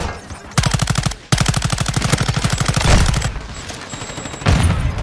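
Crouched automatic gunfire in Call of Duty: Modern Warfare II, long rapid bursts of evenly spaced shots, loud and close, broken by short pauses.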